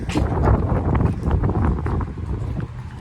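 Steady wind buffeting the microphone outdoors at a parking garage in Boulder, Colorado, a broad rumbling rush that swells and eases slightly over a few seconds, with no voices.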